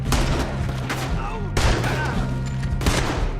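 Gunfire in Red Dead Redemption 2 crackles in dense, repeated volleys close by, loud throughout, with a fresh burst at the midpoint and game voices calling out over the shooting.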